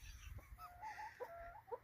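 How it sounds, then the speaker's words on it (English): Soft, brief clucks from chickens nearby, a few short calls over quiet background. "the chickens are free"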